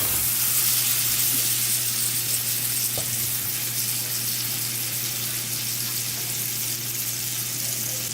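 Mushrooms sizzling in a pan with butter, a continuous close, loud crackling fry with a faint stir or clink partway through and a low steady hum beneath, no talking.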